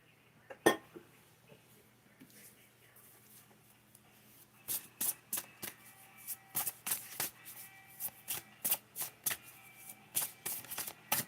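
Oracle cards from the Wandering Heart Oracle deck are shuffled close by, first a lone snap, then a rapid run of crisp riffling slaps and flicks over faint room hum.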